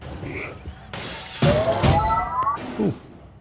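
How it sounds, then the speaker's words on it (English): Glass shatters in the video game Quantum Conundrum, a sharp crash with ringing, tinkling shards that repeats in two or three bursts before fading. "Unfortunately, the breaking of this glass is a necessary evil."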